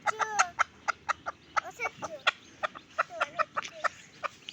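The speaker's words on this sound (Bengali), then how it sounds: "এই মুরগিকে নামিয়ে প্রথম হচ্ছে খুদ দেওয়া হলো, এগুলো বাচ্চাগুলোও খাচ্ছে" Domestic chickens and their chicks cluck and peep in quick repeated bursts while pecking at scattered broken-rice feed, close by, with a murmur of background noise and no talk.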